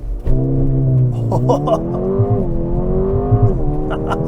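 A 2024 Mercedes-AMG GLA35 crossover launches from a torque-braked hold and accelerates hard toward 60 mph, its engine note rising loud and steady through gear changes, with a voice briefly audible over the engine.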